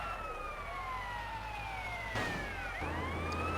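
A wailing fire truck siren in GTA San Andreas rises and falls in long sweeping tones, loud and close, with a Doppler-like pitch shift as it passes and continuous engine rumble beneath.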